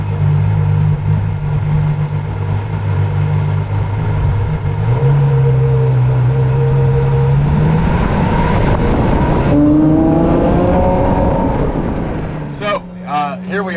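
Ferrari LaFerrari Aperta engine idling loud and close, then revving up with rising pitch as the car pulls away, fading and shifting near the end; people talk over it.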